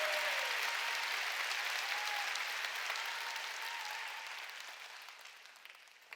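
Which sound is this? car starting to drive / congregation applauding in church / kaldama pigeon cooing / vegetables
congregation applauding in church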